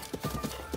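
Horse hooves clip-clop in quick, even steps in the video game The Legend of Zelda: Breath of the Wild, a short, faint run of soft thuds.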